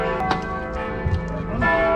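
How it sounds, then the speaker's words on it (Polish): Church bells ring in the distance, their sustained tones hanging in the air while a stalled car is being worked on, with faint voices and clatter nearby. "Jeszcze dzwony biją."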